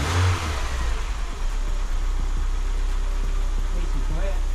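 Engine of a BMW Z3 car running close by with a loud, steady idle and slight rises in revs, a low rumbling drone throughout, with people talking over it.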